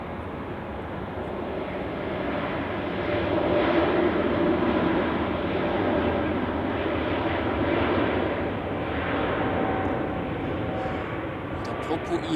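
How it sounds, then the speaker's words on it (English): A Swiss Airbus A320neo departing Zurich Airport produces a steady, loud engine roar that builds around the middle and then slowly fades. Someone talks over the noise. "Departure, Swiss A320neo to Geneva."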